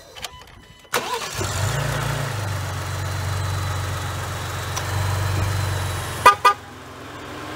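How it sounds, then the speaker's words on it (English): A 2018 Ford Raptor pickup engine cranks and catches on a cold remote start, then idles with a low steady rumble for several seconds before a pair of short beeps and a final cutoff. "How's a cold start sound in the morning?"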